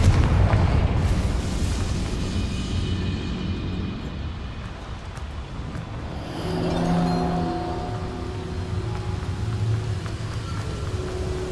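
Bombarda and Confringo spells explode in Hogwarts Legacy, producing deep rumbling blasts that roll and decay into a sustained low roar, with a second swelling burst partway through.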